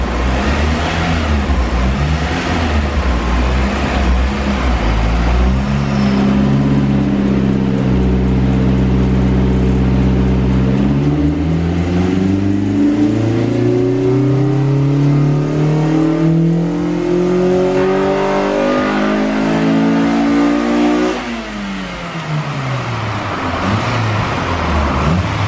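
A Honda B18C4-engined car, still cold, revs steadily and loudly on a dynamometer, climbing in pitch through the gears before dropping back and building again, with no talking.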